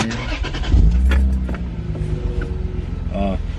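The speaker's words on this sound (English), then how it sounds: "So I'll go ahead and turn the car on now." Lexus car engine turning over and starting, a low rumbling crank that settles into a steady idle, close and fairly loud with a brief click and chime near the end.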